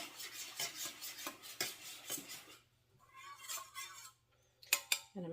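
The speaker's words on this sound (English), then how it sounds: "I'm going to stir that in that pineapple juice" A spoon stirs a cornstarch slurry into pineapple juice in a bowl, making a quiet, steady scraping and clinking rhythm up close. The stirring pauses briefly, then ends in a few sharper taps.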